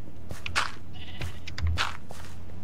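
Several short bleats from sheep in Minecraft, a few scattered calls rising over a low steady hum and background noise.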